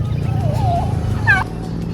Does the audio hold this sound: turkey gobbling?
yes